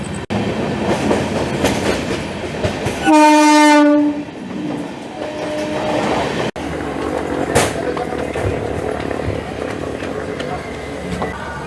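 The Uttarbanga Express arrives at Bidhannagar Road station with a long, loud horn blast, then its wagons rumble and clatter past nearby with rhythmic clicks, with some background voices on the platform.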